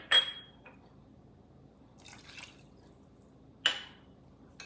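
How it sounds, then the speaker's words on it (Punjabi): Water poured from a half-filled bowl onto jaggery in a pan makes two short, close splashy bursts with a softer trickle between them, in a quiet kitchen. "ਇਹਦੇ ਵਿੱਚ ਅੱਧੀ ਕੋਲੀ ਆਪਾਂ ਪਾਣੀ ਦੀ ਪਾਵਾਂਗੇ"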